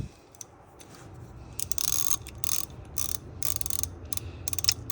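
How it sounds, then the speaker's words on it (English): A 3/8 ratchet works on a camber adjustment kit bolt, giving bursts of quick close-up clicking pawl strokes with short pauses between them and no talking. "I have my 3/8 ratchet"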